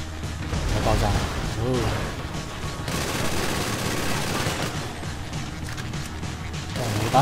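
Grenade launcher shots and rattling automatic gunfire fill a battle in GTA V Online's desert survival mode, a continuous barrage of booming impacts with no pause.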